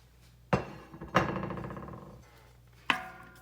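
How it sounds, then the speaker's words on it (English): Diced hog jaw cubes going into a cooking pot for collard greens, with three distinct close thunks and clinks, the middle one trailing into a short rattle and sizzle. "we're going to go ahead now and add our 1 cup of hog jaws"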